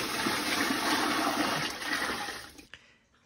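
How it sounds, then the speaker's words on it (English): Water pours in a steady gush into a plant container during a monstera repotting, then stops abruptly near the end, followed by a brief clunk and quiet. "I'm gonna put some water in here."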